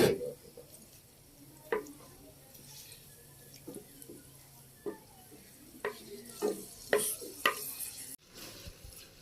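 Tomato, ginger and green chili fry together in a pot, a soft continuous sizzle under scattered spoon scrapes and clinks against the metal, heard close and without talking.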